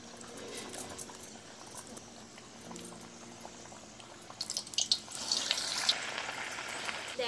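Medu vada frying in hot oil, a steady broadband sizzle and bubbling that swells louder and brighter in the second half as more batter hits the oil, close and alone with no talk.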